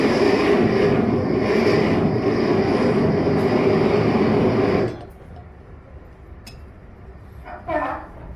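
A Mumbai local train pulls away, a loud, steady broadband rumble for about five seconds that cuts off abruptly, leaving quiet room tone with a brief faint sound near the end.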